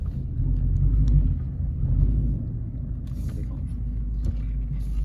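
A manual car's engine rumbles low and steady as the clutch is eased out, the drone swelling slightly then settling, heard from inside the car with light clicks and knocks.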